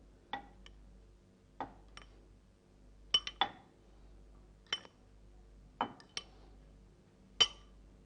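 Cake crumbs being stirred in a bowl on a cooking show, heard as about a dozen sharp, bright clinks of a utensil against the bowl at irregular intervals, close and fairly quiet over a near-silent background.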